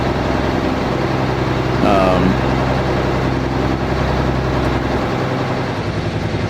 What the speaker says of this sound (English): engine audio is a little loud